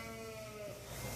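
A black sheep on a farm bleats in a brief, close call with a wavering, nasal tone, set against a low background of other farm noise.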